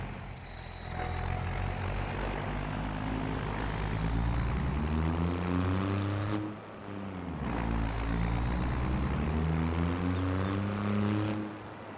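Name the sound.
12-valve diesel truck engine from a video game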